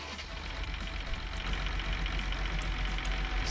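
A Belarus 1221 tractor engine in Farming Simulator 19 running with a steady low diesel rumble and knocking idle, loud and continuous throughout.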